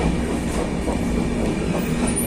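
The Howrah to Puri Shatabdi Express runs at speed, heard from on board as a loud, steady rumble with faint rhythmic clicks from the wheels and no talk.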